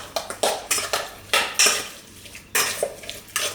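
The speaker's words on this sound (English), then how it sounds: "So you're just gonna give this a good mix." Pork ribs tossed with baking soda in a bowl, with repeated clinks and scrapes of utensils against the dish in short bursts, close and fairly loud, no talking.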